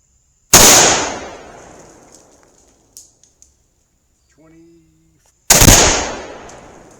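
Two loud, sharp gunshots from a Savage Model 10 Scout rifle in .308 with a 20-inch barrel, each followed by a long rolling echo, spaced about five seconds apart with faint clicks between.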